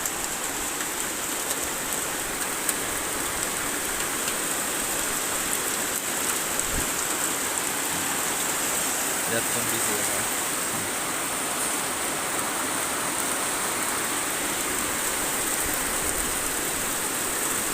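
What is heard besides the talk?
strong wind with rain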